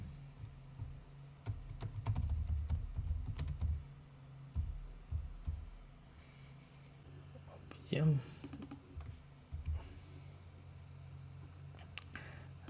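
A computer keyboard clicks in quick, uneven bursts as someone types code for trading logic, up close, with soft whispered speech mixed in and a few pauses between runs of keystrokes.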